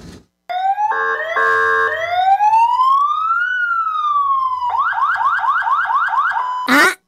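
A siren sound effect plays on a radio broadcast, loud and close, cycling through rising and falling wails, steady tones and rapid yelping warbles before cutting off, with no talk over it.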